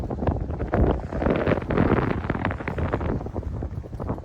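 Strong wind buffets the microphone on the summit of An Caisteal, 995 metres up, a loud, continuous gusty roar that swells and eases without letting up.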